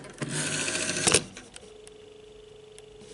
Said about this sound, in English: Hope you can hear the dial tone.